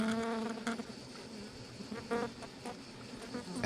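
Honeybees swarm a hornet at a hive in the Dordogne, giving off a dense, close, continuous buzzing drone that rises and falls slightly with no talking.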